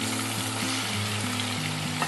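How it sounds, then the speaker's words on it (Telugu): Onions fry in hot oil with cumin seeds in a kadai. A steady, close sizzle continues throughout over a low hum. "ఆనియన్స్ కూడా బాగా ఫ్రై అవ్వాలి."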